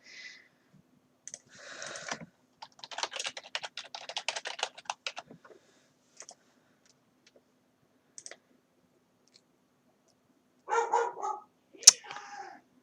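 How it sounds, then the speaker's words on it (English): A dog barks in a short burst near the end, muffled and somewhat distant, after stretches of computer keyboard typing and clicking in a quiet room. "There's my dog's barking again."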